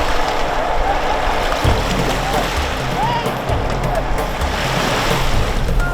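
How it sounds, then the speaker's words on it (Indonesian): High waves wash and slap around a boat on a lake, a loud continuous surging rush with wind buffeting the microphone throughout. "Kondisi ombak pada saat itu cukuplah tinggi"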